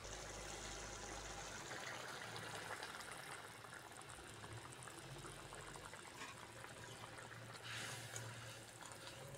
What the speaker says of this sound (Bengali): এইবার তেঁতুল জলটা দিয়ে দেবো।